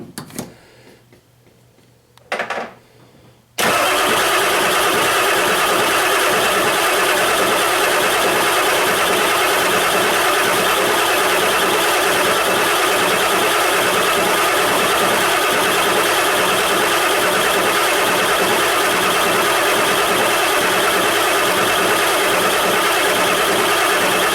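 A 7.3 IDI diesel engine cranks briefly in two short bursts, then catches and runs loud and steady for the rest of the clip with a dense, continuous clatter and no talking.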